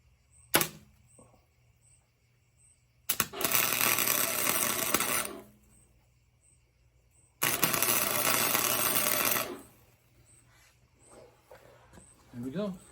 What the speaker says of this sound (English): Got my friend Tom here. He's going to do the welding.